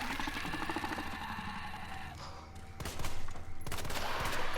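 Rapid bursts of gunfire in Resident Evil 2, shots aimed at small plant creatures, crackle in quick succession, with a sharper volley toward the end over steady game background noise.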